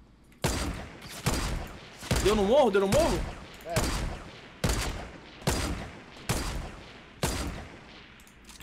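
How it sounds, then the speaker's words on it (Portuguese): Gunfire trades back and forth across a hill in the video game Fortnite: roughly eight sharp, loud shots land at uneven intervals, with a voice talking briefly between them. "trocando tiro no morro, hein"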